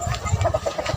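Fighting rooster chickens clucking nearby, a quick series of short throaty clucks repeating in an uneven rhythm, fairly loud.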